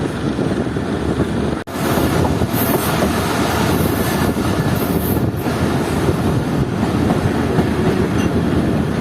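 The Mohen Jo Daro passenger train rolls steadily along the main line, a loud continuous rumble of wheels and carriages with clattering rail noise and wind buffeting from on board.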